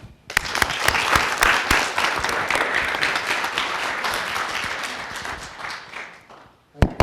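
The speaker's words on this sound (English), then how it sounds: "I'm assuming that your applause is for Mayor Hovland" An audience at a Holocaust remembrance event applauds, a dense burst of many hands clapping that rises quickly, holds steady for several seconds, then fades, followed by a couple of isolated claps.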